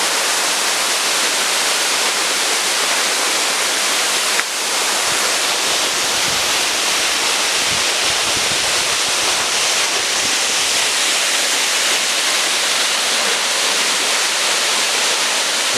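A waterfall in Tamarana, Paraná, heard as a dense, steady roar of rushing water that fills the scene evenly from start to finish, loud and unbroken, with no voices.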